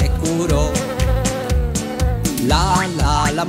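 A buzzing fly sound plays inside a Spanish children's song, a rhythmic insect-like drone riding over the bouncy backing music throughout.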